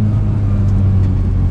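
Continuous close-up engine drone from a 1965 Austin Mini Cooper S driving along, holding a steady revving pitch throughout with no talk over it.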